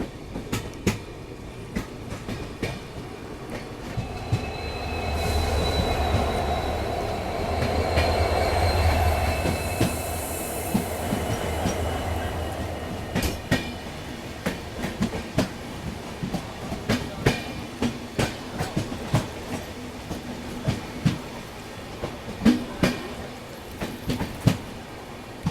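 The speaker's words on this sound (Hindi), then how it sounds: "तो इस ट्रेन का पहले डिपार्चर हो गया।" A train runs on the Shiradi Ghat railway near Sakleshpur, Karnataka. A rumbling pass swells in the middle, then gives way to a steady run of rhythmic wheel clicks over the rail joints.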